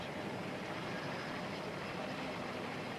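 Steady, dense engine roar with a broad rumbling hum from Westland Wessex helicopters flying over London in a Falklands victory parade flypast, continuous throughout, no talking.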